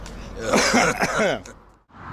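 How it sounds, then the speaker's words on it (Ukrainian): A man who is ill coughs and clears his throat up close, a rough burst lasting about a second and a half before a short quiet gap. "сначала покашляємо."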